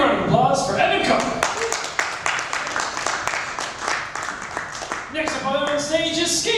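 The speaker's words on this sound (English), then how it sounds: "Big round of applause for Evan Cook." Clapping from a small bar open mic crowd for a performer, a run of hand claps in the middle with voices and talk over the start and end.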